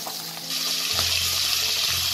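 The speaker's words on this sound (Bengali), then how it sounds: "মাছগুলো এক পিঠ ভাজা হলে তাহলে তারপর আমি উল্টাবো।" Bata fish sizzle in hot mustard oil, the frying swelling louder after the first half-second into a dense, close, continuous crackle with a low hum underneath.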